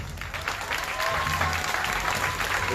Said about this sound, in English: Y'all give a hand for the challenge.